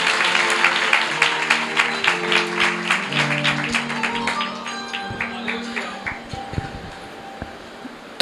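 A church congregation claps in a steady rhythm for young daughters, with sustained keyboard-like musical notes ringing beneath, the claps thinning out and fading in the second half.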